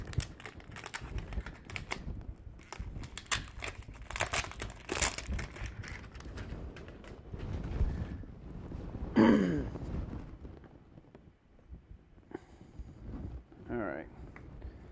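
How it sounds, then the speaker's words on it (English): Plastic wrapping crinkles and tears as it is pulled off a boxed GoPro Fusion camera during unboxing, close crackling rustles in irregular bursts with some handling bumps and a few quiet pauses. "So let's get rid of this plastic."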